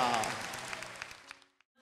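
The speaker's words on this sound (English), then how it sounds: "Can you give the Lord a hand clap of praise in the house?" Church congregation claps hands in praise during a service, a brief burst of clapping that fades quickly, with some ringing tonal sound behind it before near silence.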